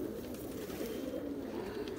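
Rampur pigeons coo in a low, continuous murmur, the soft rolling calls overlapping steadily without pause and without any voices.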